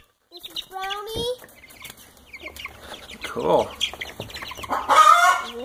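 Baby chickens chirping and clucking close by in a small brood, short peeping calls scattered throughout with a brief spoken word over them.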